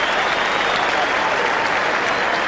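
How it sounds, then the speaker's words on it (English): Stadium crowd at an AFL match between Melbourne and Collingwood applauding Josh Fraser as he leaves the field, a loud continuous roar of clapping from a large distant crowd. "Josh Fraser coming off now for Richardson, but terrific game. Generous applause."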